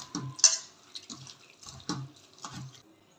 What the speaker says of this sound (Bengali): চিড়েটা ধুয়ে নিয়ে আসি, বেশ করে চটকে ধুয়ে নেবো।